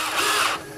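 Power drill boring a hole with a 0.125-inch bit during a Honda transmission rebuild, a loud steady whine running close up for under a second before easing off.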